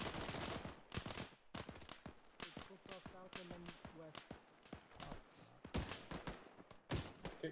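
Machine-gun fire in a military video game, rapid bursts of sharp shots crackling throughout, with people talking over the firing.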